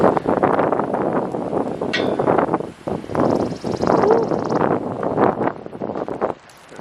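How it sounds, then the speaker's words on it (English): Gusty wind buffets the microphone in rough bursts, with rustling close by and a brief lull near the end. "Really windy today."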